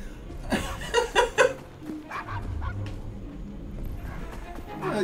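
A dog in the video game Assassin's Creed: Syndicate gives a quick burst of several yipping barks and a whimper near the start, then quieter game noise and low rumbles follow, with a person briefly chuckling.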